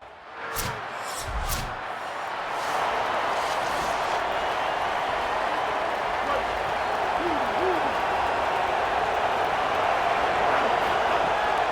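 A home stadium crowd in a college football video game roars steadily, a dense sustained wash of noise after a few thuds at the start, loud and continuous.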